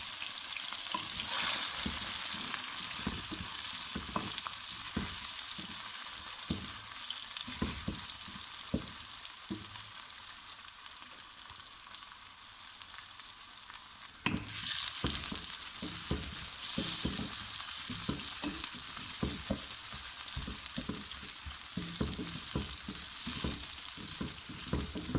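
Onions frying in a pan for a homestyle aloo gosht curry, giving a continuous hissing sizzle with scattered crackles and occasional stirring clatter. The sound is heard up close and steady, and nobody speaks.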